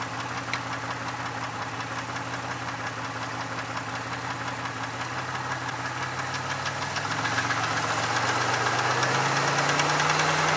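A 2002 Chevy Malibu engine runs steadily close by with a knocking idle, its pitch climbing as the RPM rises toward the end, with no talk over it.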